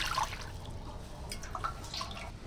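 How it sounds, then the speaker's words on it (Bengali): Water goes into a wok for boiling raw mangoes, heard as a brief, faint patter of splashes and drips close by. "সিদ্ধ করার জন্য কড়াতে দিয়ে দেবো জল"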